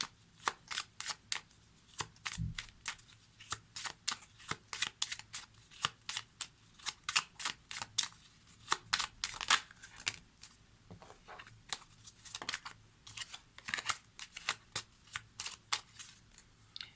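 Oracle cards for a card reading being shuffled by hand, a long run of quick, crisp riffling and slapping bursts in an uneven rhythm, quiet and close, with no talk.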